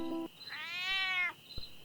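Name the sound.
cat meowing in a cartoon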